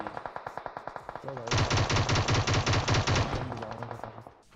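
A spray of automatic gunfire in PUBG Mobile: scattered lighter shots lead into a loud, rapid sustained burst of about two seconds, then trail off into a few more shots.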